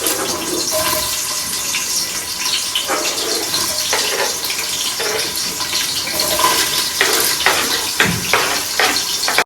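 Onions frying in oil for Ambur biryani produce a loud, close, continuous hiss with crackling bursts throughout.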